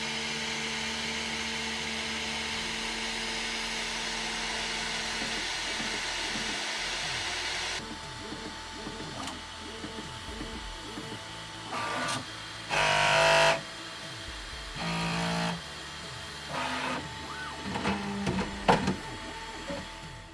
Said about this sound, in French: l'imprimante va récupérer le fichier et se mettre à imprimer toute seule.